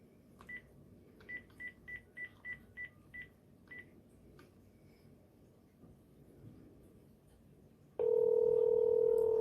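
A telephone keypad beeps out a quick series of about eight dialing tones, followed by a pause with faint background sound, then a loud steady ringback tone starts near the end.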